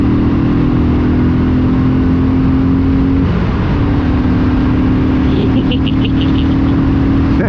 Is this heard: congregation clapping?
no